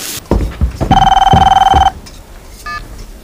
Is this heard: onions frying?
no